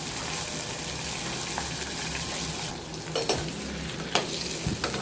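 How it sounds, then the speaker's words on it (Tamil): Tender young brinjals sautéing in a pan for a traditional village kuzhambu, a dense continuous sizzle with stirring scrapes and a few sharper clinks near the end, no talk. "நல்லா கத்திரிக்காயெல்லாம் நல்லா வதங்கி வரட்டும் பார்க்கலாம்"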